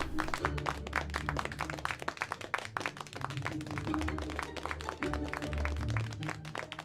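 A crowd claps in the video game Fable Anniversary, a dense continuous patter of many hands at moderate loudness, layered over a low tonal game backdrop.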